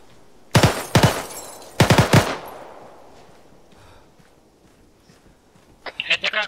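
Bursts of automatic gunfire echo inside a building during a town patrol, two sharp rapid volleys followed by a decaying reverberant tail, then a quieter cluster of shots near the end.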